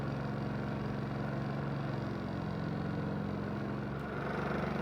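A Predator 3500 generator runs steadily under a 400 watt load, a low, even engine hum heard from a distance with no talking.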